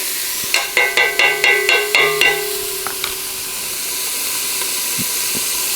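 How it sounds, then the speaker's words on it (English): Bacon renders down in a hot pan with a steady, loud sizzling hiss, preceded by a quick run of about seven sharp rhythmic clicks near the start. "So all we wanna do is just render down this here bacon."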